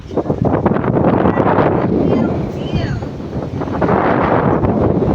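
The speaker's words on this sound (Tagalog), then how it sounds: "masyadong mahangin sa pinakatuktok sa taas" Strong wind buffets the microphone with a continuous low rumble and gusty roar, loud and close throughout.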